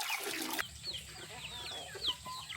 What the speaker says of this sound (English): As soon as I heard the chickens and ducks making noise, I knew they were hungry